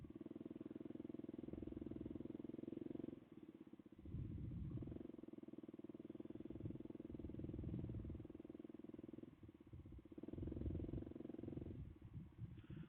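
A 2022 Kawasaki KLX 300SM single-cylinder motorcycle being ridden, its engine droning steadily and rising and dropping with throttle changes and gear shifts, close but fairly quiet, with rumbling wind buffeting and no speech.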